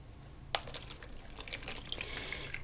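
Water pours into a small clear container ahead of mixing a glass-casting medium, a soft splashing fill with a sharp clink at the start and a steady trickle that rises gently in pitch.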